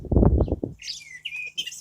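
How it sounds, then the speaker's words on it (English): Someone speaks briefly, then a blackbird sings outdoors in spring blossom with several bright whistled phrases and chirps, fairly close over a faint low hum. "There's a bird singing."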